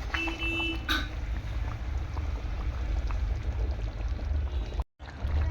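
Mung dal cooking with a large fish head bubbles at a steady boil, a dense continuous low rumble and gurgle. A brief clink comes near the start and a short dropout near the end.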